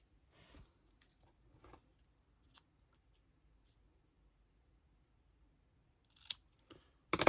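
Scissors snip through paper for a scrapbooking happy-mail project in short, sparse bursts separated by near silence, close and fairly quiet, with a busier cluster of cuts at the end.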